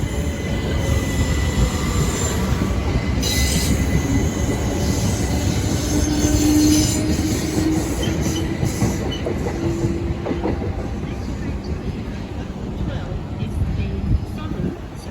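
A Southern electric passenger train bound for Victoria rolls past at close range with a steady rumble, wheel squeal and rhythmic clatter throughout.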